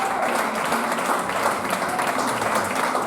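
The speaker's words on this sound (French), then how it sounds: "On acclame le Seigneur Jésus." Church congregation applauding and cheering in praise of Jesus during a worship service, a dense, steady wash of clapping that fills the whole stretch at full volume, with voices blended into the crowd noise.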